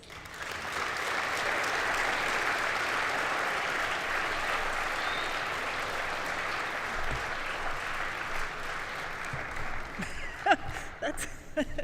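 A large audience applauds to welcome President Griffiths at an athletics complex announcement, with dense, sustained clapping that holds for about ten seconds before thinning out into a few scattered claps and some rustling.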